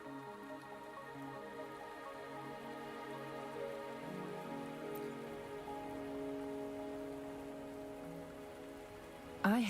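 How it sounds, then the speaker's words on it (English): Continuous rain falls in the video game Wuthering Waves, a soft even hiss beneath sustained musical tones, with a short sharper sound at the very end. "Are you trapped here by the rain?"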